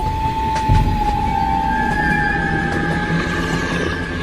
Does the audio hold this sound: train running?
yes